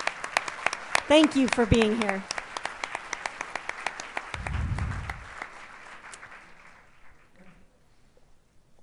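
Applause at a distinguished alumni awards evening for former award recipients, with a crowd clapping at first while a speaker talks over it, then thinning to sparse claps and fading out near the end.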